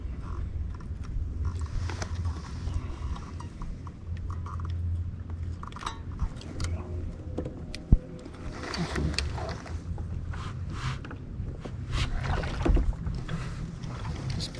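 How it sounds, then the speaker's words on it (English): Boats moving on a lake during a fishing trip, giving a steady low rumble and water wash with occasional clinks of gear throughout, with one sharp knock partway through. "Boats have been fishing on top of each other like crazy all day long."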